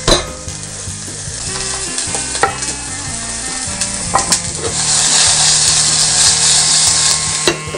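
Garlic and shallot fry in a hot pan, a loud close sizzle that swells and stays steady, with scraping stirs and small clinks of a utensil against the pan.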